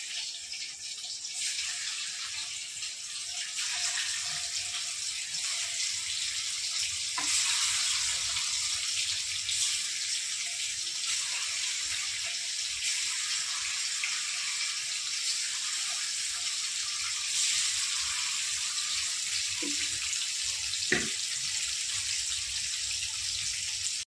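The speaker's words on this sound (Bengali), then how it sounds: "ওই গরম তেলে বাকি মাছগুলো দিয়ে দেবো।" Magur catfish sizzles and crackles steadily in hot oil throughout, with an occasional faint clink of a utensil.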